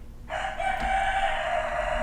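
A rooster crows once, loud and sustained, its call carrying steadily from start to finish with no voices over it.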